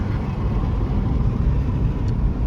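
A 2008 Toyota Corolla LE with 300,000 miles is driven on a test drive, its engine pulling up through the RPMs. There is a steady loud low rumble with road and cabin noise, heard from inside the car.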